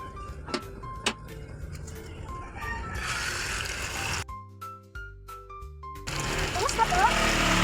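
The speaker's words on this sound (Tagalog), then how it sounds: "Buhos na po natin sa kawali." Beaten eggs for scrambled eggs hit a hot frying pan (kawali) that also holds cabbage and tomato. There is a fizzing sizzle swelling from mid-clip, a brief quiet patch with clinks, then renewed loud sizzling, with someone talking over it.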